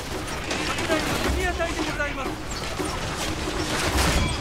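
Troops fire in a Shogun Total War 2 battle, a dense continuous crackle of distant volleys and gunfire layered with battlefield noise, running under a person speaking.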